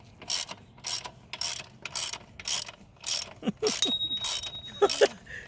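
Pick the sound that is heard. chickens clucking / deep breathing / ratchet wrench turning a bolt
ratchet wrench turning a bolt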